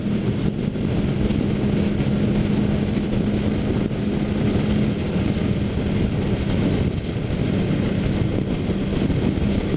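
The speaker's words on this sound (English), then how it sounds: "The crossover engine sounds amazing too. Or whatever it's called, the cross plane, I think." A crossplane liter-class motorcycle engine at a motorcycle show runs with a steady, loud, dense drone and a low tonal hum throughout, holding near-constant level with no clear rev peaks.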